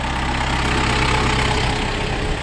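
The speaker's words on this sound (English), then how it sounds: "We're gonna hop in the old tractor here." An old Kubota tractor engine idles close by, a loud, steady low rumble with a fast, even pulsing beat throughout.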